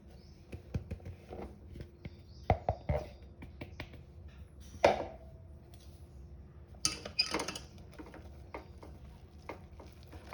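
Intermittent scraping and clinking of a spoon stirring thick rice-flour dough in boiling milk in a pot, with scattered light knocks against the metal.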